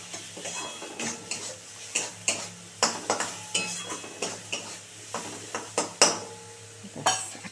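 A spoon stirs and scrapes beet bhorta, a mashed beetroot dish, around a pan in a steady rhythm of sharp clinks and scrapes, close up, with no talking.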